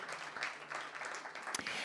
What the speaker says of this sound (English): So a big round of applause for the prize and for all the startups who are attending.